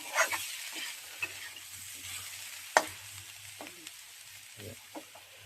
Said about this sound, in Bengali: এবার বেসনটাকে দিয়েও ভালো করে ভেজে নিতে হবে।